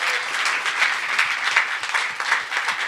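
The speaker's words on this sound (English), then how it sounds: "Round of applause for them." Crowd applause for supercross athletes at a pre-race press conference, a moderate burst of clapping with distinct individual claps standing out through the short stretch.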